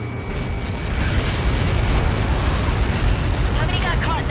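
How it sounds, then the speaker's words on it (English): A missile impact blast in the air-combat video game Ace Combat 7, a loud, sustained roaring rumble with crackling debris that holds for several seconds. "How many got caught in that explosion?"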